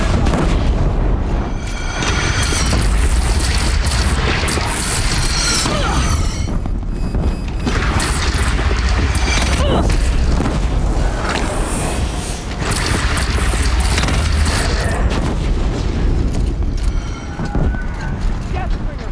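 Deathbringer machine in the game Horizon Zero Dawn firing a continuous barrage of loud, booming explosions and gunfire for the whole span, dense and rumbling, with a voice talking over the battle.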